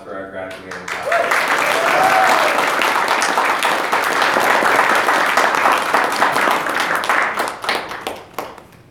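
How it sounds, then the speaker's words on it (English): Crowd applauding a graduating class at Alexander College's fall graduation ceremony, dense sustained clapping that swells quickly, holds for several seconds and tapers off, with brief voices near the start. "And another round of applause for our graduating class."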